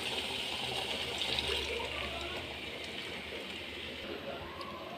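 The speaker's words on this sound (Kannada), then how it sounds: "ಈಗ ಸ್ವಲ್ಪ ನೀರು ಹಾಕ್ಕೊಳ್ಳೋಣ." Water pours steadily into dry-roasted mutton curry masala in a pan, a continuous splashing rush that softens slightly toward the end.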